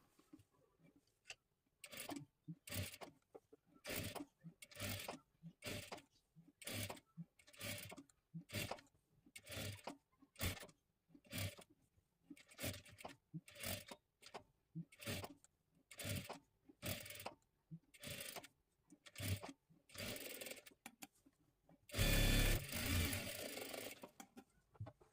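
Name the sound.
sewing machine stitching a boat neck blouse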